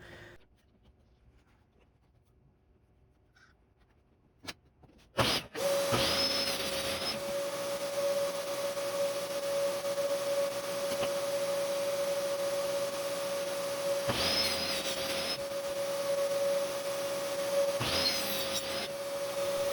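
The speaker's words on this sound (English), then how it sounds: "Then I cut them the same way as with the center beams previously." Power saw cutting clamped wooden edge beams for a kotatsu table, starting after a few quiet seconds into a sustained steady whine with a few louder surges as the blade bites into the wood.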